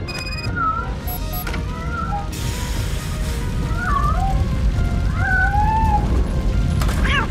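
A kitten meows several times in the video game Robocop Rogue City, short rising cries standing out over a steady background of sloshing water and ambient noise.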